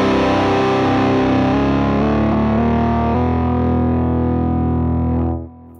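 Distorted electric guitar chords run through a virtual capo pitch shifter, the pitch sliding down a half step as an expression pedal moves, sustained and loud for about five seconds before cutting off abruptly.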